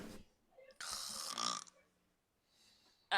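A voice imitates loud, rasping snoring in two long drawn-out breaths during a tabletop role-playing game session, followed by quieter breathy sounds and a short sharp noise at the end.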